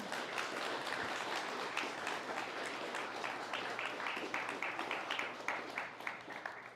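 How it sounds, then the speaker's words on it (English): Audience applause at a performance by an Indigenous dance group, dense steady clapping from a crowd that holds throughout and begins to thin toward the end, with no talk over it. "It is okay to clap, folks."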